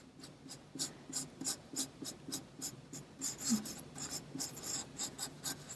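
A pen scratches across a book page in short rhythmic strokes, sketching a crown and a woman's silhouette; the faint, close scribbling repeats steadily with brief pauses between strokes.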